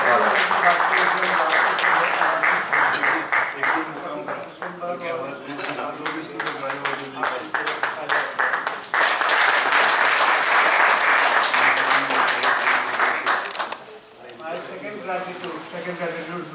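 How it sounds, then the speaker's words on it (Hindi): Loud, sustained audience applause at an award function as an honoree is invited up. Dense clapping runs for the whole stretch with a brief dip near the end, and voices sound over it. "मैं जोरदार तालियों के बीच आमंत्रित कर रहा हूँ डॉक्टर मल्लिकानंदा मैम का, प्लीज मैम आइए, जोरदार तालियों के साथ।"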